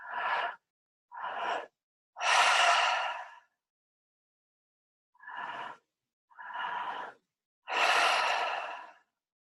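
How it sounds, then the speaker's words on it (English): Deep breathing during a guided meditation, with two sets of three breaths: two shorter inhales or exhales followed by a long, loud, airy sigh, each set separated by a few seconds of silence, close and clear. "And just keep on breathing right like that."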